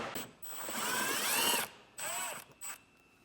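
A power driver whirs in short bursts while Phillips screws are backed out of the front of a 2017 Honda Fit during a base plate install: one longer spin, then two brief ones, close and fairly quiet.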